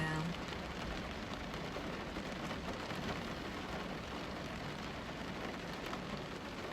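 Steady rain falls without pause, a dense even hiss of drops on surfaces heard from indoors, faint and continuous throughout with no break.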